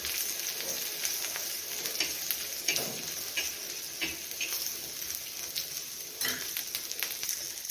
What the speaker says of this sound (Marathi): थोडं तेल टाकते यामध्ये धने भाजून घेऊ